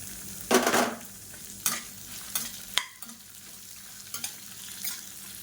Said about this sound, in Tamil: இந்த ஸ்டேஜில் மீடியம் சைஸாக ஒரு பெரிய வெங்காயம் நீளமாக நறுக்குனதை சேர்த்துக்கலாம்